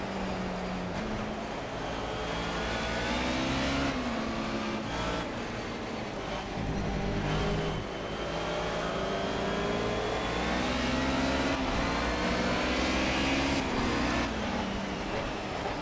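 Mercedes 190E race car in the Project CARS video game at Brno in the rain, its engine droning steadily and rising and falling in pitch through gear changes, loud and continuous with no talk.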